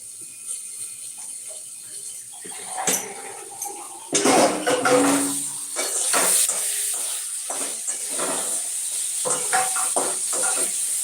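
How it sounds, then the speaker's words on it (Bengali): Pointed gourd (potol) frying in a pan, with soft sizzling and intermittent clinks and scrapes of a utensil against the pan, louder in bursts midway. "পটলটা ভাজতে দিয়েছি কত দূর হলো"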